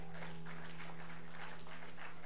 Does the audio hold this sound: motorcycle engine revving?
no